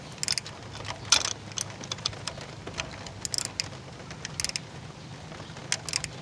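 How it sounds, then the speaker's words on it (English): A ratcheting wrench tightens a spark plug on a 2013 Cadillac ATS, with short, fairly quiet clicks in irregular bursts against a low, steady background. "I'm just going to tighten it with the ratcheting wrench that we first took it off with"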